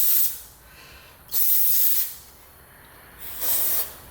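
An aerosol cleaner sprays onto a Taurus PT99 pistol in three separate bursts, each a sharp hissing blast lasting under a second, with quiet gaps between them.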